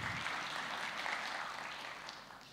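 Audience applause at a church gathering, a dense, steady wash of many hands clapping that carries on throughout and tapers slightly toward the end, with no speech over it.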